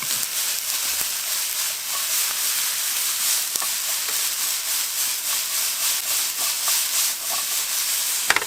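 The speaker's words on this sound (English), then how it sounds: "you can see those onions starting to brown up" Onions frying in a pan at a riverside campsite, a steady, close, even sizzle with faint scraping and stirring clicks, no talking.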